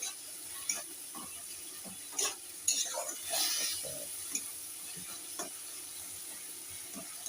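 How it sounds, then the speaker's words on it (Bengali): Spice paste stir-fried in oil for a stingray curry, a soft steady sizzle with scattered scraping stirs and light utensil clinks against the pan, close by and without speech. "ভালো করে মশলাটা কষে যতক্ষণ নেবে কষতে থাকো মশলাটা"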